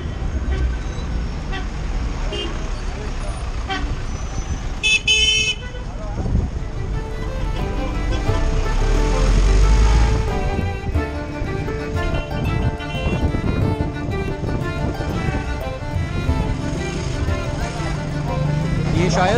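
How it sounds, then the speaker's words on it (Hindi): Busy street traffic in Cairo, with a steady roar of engines, buses and cars and a short horn toot rising above the din, while people talk nearby. "बड़ा खतरनाक ट्रैफिक है यहाँ।"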